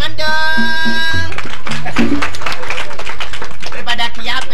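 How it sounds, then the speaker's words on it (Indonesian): An audience claps at a Balinese arja muani theatre performance: a short held tonal passage gives way to loud, dense applause that fills the rest of the moment. "Tepuk tangan dong."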